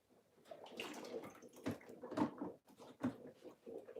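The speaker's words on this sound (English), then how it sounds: "Or Sylvester, I'm gonna pour this one on your head." Water poured from a cup, splashing close by in a few uneven gushes and splatters over about four seconds, with no talk over it.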